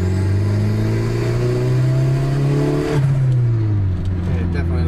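A turbocharged 1999 Ford Festiva Trio engine holds a loud, steady rev with a strong droning hum, then drops off sharply and settles into a lower pitch after about three seconds.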